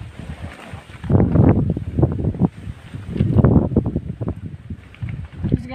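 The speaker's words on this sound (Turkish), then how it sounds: "Rüzgar çıktı resmen şansıma." Gusty wind buffeting a microphone on a house rooftop, rising in loud rumbling bursts and easing between them, with no talk.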